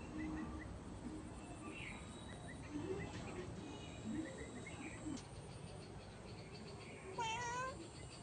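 A cat meows several times from a window, faint and a little distant, with birds chirping and insects buzzing quietly in the background and a voice calling now and then.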